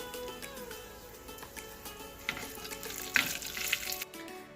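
Red chilli splutters in hot oil as a tempering for green apple thokku, a close steady frying hiss with scattered pops and crackles and a slight stirring clatter; no voices.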